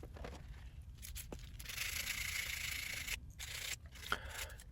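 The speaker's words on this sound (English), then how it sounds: "So I clean up everything there with a brush, steel brush, and then with some sandpaper." Brake caliper parts from a 2017 Hyundai Santa Fe XL get scrubbed with a steel brush and sandpaper, producing quiet, close, rasping strokes in uneven bursts with short pauses.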